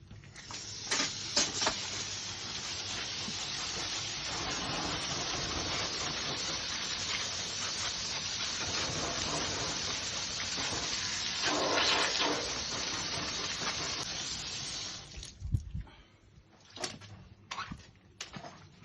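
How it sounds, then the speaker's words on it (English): Water hosed through dusty heat pump filters, a steady broad hiss of spray running loud and close for about fifteen seconds before cutting off into a few scattered knocks and drips. "the dust settles on this side of the filter, so we're going to hose them back through"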